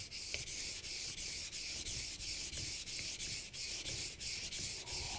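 A Global kitchen knife is drawn across a whetstone in steady, regular strokes, about a dozen close scraping rasps in even rhythm with no talk.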